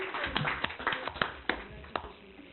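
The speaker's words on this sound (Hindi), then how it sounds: "एक बार शची के लिए जोरदार तालियां" An audience at a team installation ceremony gives a faint, scattered round of hand claps, with distinct separate claps spaced through a few seconds and a low room murmur between them.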